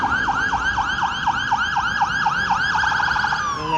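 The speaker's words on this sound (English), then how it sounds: "sirens from a police car." A loud, close police siren wailing in rapid repeating sweeps on a Toronto street, then fading as it moves away.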